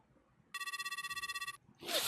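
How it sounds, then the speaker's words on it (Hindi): A telephone ringing in a Japanese haunted-house video game, one close electronic bell ring of rapid even pulses lasting about a second, followed by a loud burst of noise. "तो अब हम तकाशी को फ़ोन मिलाएंगे।"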